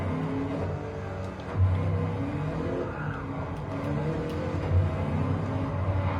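A tuned car driven in Gran Turismo 7 on the Grand Valley circuit: a steady engine drone with brief tire squeal and surges in revs, moderately loud, with no voices over it.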